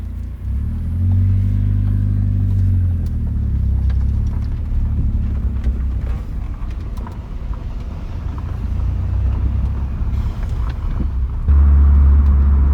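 A sports car that has been noisy since its clutch was changed drives along, its engine droning and rumbling steadily near and loud, swelling slightly toward the end, with no talking.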